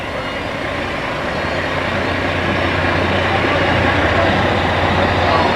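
A Pierce Aerial ladder fire truck rolls past at a Labor Day parade, a steady loud diesel engine drone and road rumble that holds throughout with crowd noise around it.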